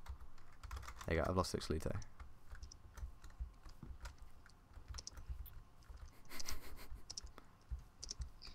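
Quick bursts of typing on a computer keyboard, with clustered key clicks close by under a man's brief speech and game background noise, entering a message in Minecraft chat.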